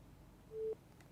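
A short, faint telephone busy tone sounds once after a call drops, a single soft electronic beep alone over a quiet background.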